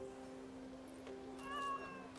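A cat meows in the video game Anno 1800, a short tonal call rising near the end over a steady low game hum and background music.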